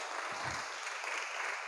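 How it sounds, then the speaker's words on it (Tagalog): Applause at a church faith gathering, a steady wash of clapping from a congregation held at an even level throughout, with no speech over it. "palakpak uli"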